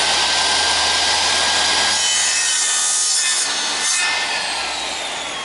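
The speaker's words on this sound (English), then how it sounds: "If I want to cut an angle on the end of this piece of timber," A drop saw cuts an angle across the end of a piece of timber with a loud, harsh, sustained rasp. It runs alone for about five seconds and eases off slightly at the end.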